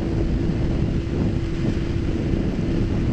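Wind noise inside a Nolan N90 motorcycle helmet while riding, a loud, constant low roar with no break.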